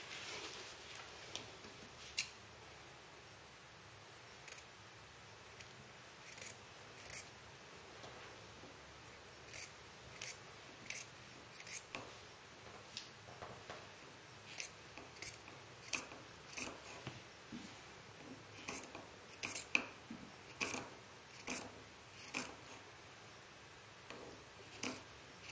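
Scissors snip through an old t-shirt, cutting circles of fabric for t-shirt yarn, in a steady run of crisp, close cuts with short pauses between them and no talk.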